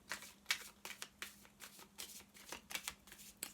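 A deck of tarot cards being shuffled nearby, with quick riffling bursts repeating in an uneven rhythm and no voices.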